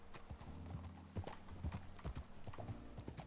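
Video game horse hooves clop in a steady trotting rhythm, soft and somewhat distant, with a low hum underneath.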